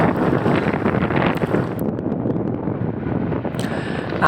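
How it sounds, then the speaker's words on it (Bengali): Strong wind blowing across Kachubari road during a sandstorm, a loud continuous roaring gust buffeting the microphone throughout, with brief faint rustling near the end and no talking. "দেখুন কি পরিমাণ বালু ঝড় হচ্ছে আমাদের এই কচুবাড়ি রাস্তাতে"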